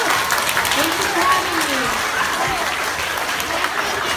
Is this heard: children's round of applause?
yes